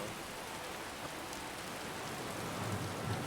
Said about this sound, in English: I had to turn down the rain and thunder quite a bit